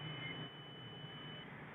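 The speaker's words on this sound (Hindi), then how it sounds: "ये इसने बजर दे दी है, तो ये ड्राइव कुछ देर बाद देगा।" A Growatt 3000W solar inverter showing fault 53 sounds its buzzer on startup, a thin, steady high-pitched tone held for over a second over a low electrical hum.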